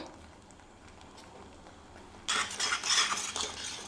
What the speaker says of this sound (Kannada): ಮಸಾಲೆ ಎಲ್ಲ ಹಾಕಿ ಚೆನ್ನಾಗಿ ಫ್ರೈ ಮಾಡಬೇಕು